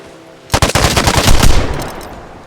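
Rapid automatic gunfire aimed at the player in the Vigor video game erupts after a half-second of quiet, a loud close burst of shots that rings out and slowly fades.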